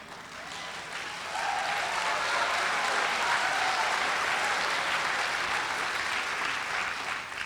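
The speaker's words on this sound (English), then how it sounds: "We like applause." A crowd in an auditorium bursts into applause, starting lighter for the first second and then swelling into sustained, dense clapping that carries on evenly to the end.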